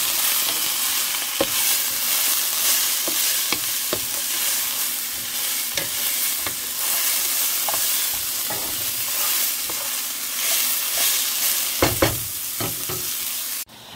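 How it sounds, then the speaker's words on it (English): Onions and mushrooms sauté in a pan with a steady, close sizzle and crackle, and occasional sharp ticks and stirs break through the constant frying hiss. "while the onions and mushrooms are sauteing"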